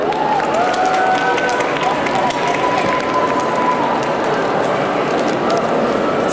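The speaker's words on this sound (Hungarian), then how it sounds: "Nagy tapsot neki!" Steady, loud applause from a convention audience fills the hall at a cosplay contest results ceremony, cheering a contestant, with a continuous dense roar of clapping and crowd noise throughout.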